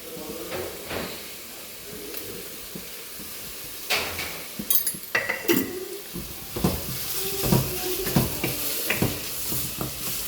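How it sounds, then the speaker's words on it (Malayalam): Onion, green chili and garlic sautéing in a pan for a potato kurma, with a steady sizzle and scattered stirring and utensil clatter, plus a few clanks of cookware in the kitchen. "വെളുത്തുള്ളി മൂന്നും കൂടെ ഒന്ന് വഴന്ന് വെക്കാം"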